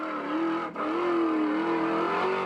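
A 4x4 truck engine revs hard as it climbs a hill in an extreme off-road challenge, its loud, rising and falling drone sustained with a brief dip partway through.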